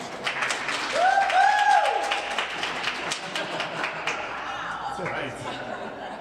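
A room full of people claps steadily, a dense patter of many hands that thins out toward the end, with a brief tonal squeal early on.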